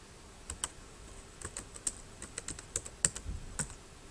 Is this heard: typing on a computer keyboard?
yes